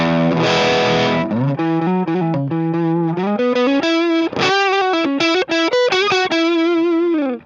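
Distorted electric guitar plays a melodic lead line through an amp cabinet close-miked with a Shure SM57, soloed without room mics, loud and near with sustained bends and quick note changes, alone with no talking.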